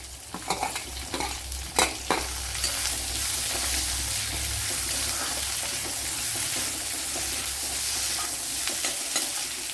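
Crushed green chilies and shallots fry in hot oil in a pan for banana varuval, a steady loud sizzle with a few sharp scraping stirs near the start.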